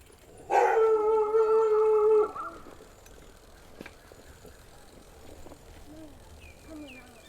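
While cycling through Bangkok's green lung, street dogs let out a loud, close howling burst lasting under two seconds, followed by quieter outdoor ambience and faint, scattered yelps further off.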